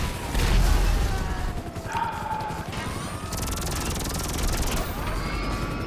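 Helicopters being shot down in a video game, with a dense wash of gunfire, crashing impacts and whirring mechanical noise, a heavy thud early on and shrill tones layered over the steady din.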